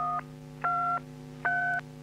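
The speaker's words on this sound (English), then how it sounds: "Now enter your 4-digit password for the reset feature." Keypad tones from a TA2000 security alarm telephone, three short dual-tone beeps in an even rhythm, crisp and clear with no voices.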